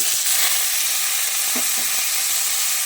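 Papaya pieces fry lightly in a pan with cinnamon for a chutney, giving a steady, close, even sizzle that never lets up, with no voices.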